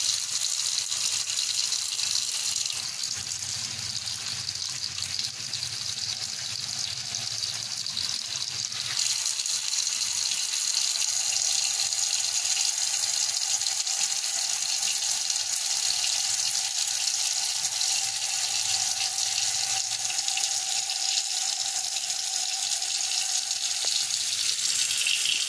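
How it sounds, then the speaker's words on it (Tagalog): Steady water from a kitchen tap running into a pot while making homemade soup base, a continuous loud gushing stream that shifts slightly in tone as the pot fills. "Lagyan natin ng tubig."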